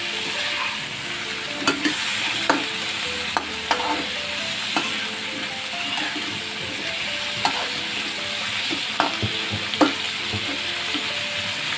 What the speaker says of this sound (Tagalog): unahin natin paglagay ang kalabasa